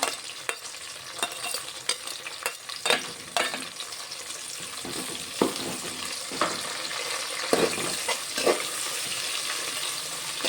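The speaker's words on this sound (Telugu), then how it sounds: "ఇదంతా కొంచెం మంచి ఫ్రై కావాలి" Fresh curry leaves and mint frying in a pan, a steady close sizzle with repeated scraping stirs of a spoon against the pan throughout.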